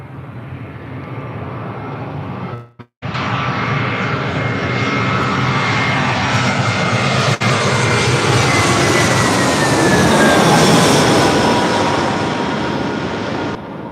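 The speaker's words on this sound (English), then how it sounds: "Flight time from Vancouver on this A320 is 2 hours and 38 minutes." Airbus A320 jet engines roaring close by at LAX, a loud sustained broadband rush that cuts in abruptly after a brief gap and swells louder toward the end, with a rising whine threading through it.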